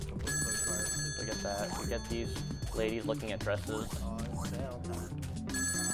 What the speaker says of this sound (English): They make phone call buzzing noises, so I'm going to assume they're phones.